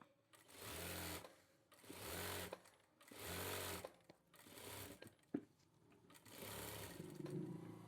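A sewing machine runs in repeated bursts of about a second each while stitching the edge of a shirt, with short pauses between runs and faint handling noises.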